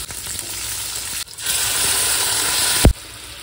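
Vegetable stems tipped into a pan of frying fish curry give a loud burst of sizzling over a steady background fry, with a brief stir and a clink near the end.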